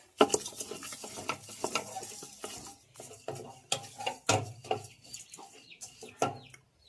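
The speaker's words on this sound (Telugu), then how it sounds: "తిప్పేసుకుందాం" A pot of mutton curry cooked without oil is stirred with a spoon, giving irregular scraping and clinking strokes against the metal, near and fairly loud, with no talking.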